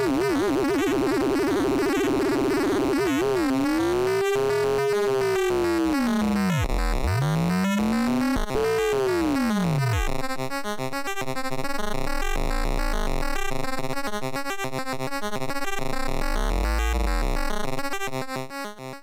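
Arturia Moog Modular V software synth running a Bode frequency shifter swept by a sine LFO: a steady tone bends and warbles in rising and falling arcs, then settles into dense, inharmonic buzzing textures, loud and continuous with no voices.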